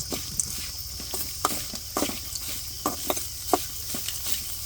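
Half a coconut's worth of grated coconut fries in a pan over a continuous soft sizzle, with repeated rhythmic scrapes and taps of a spatula stirring it, close by and without speech.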